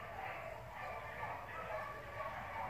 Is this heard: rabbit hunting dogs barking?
yes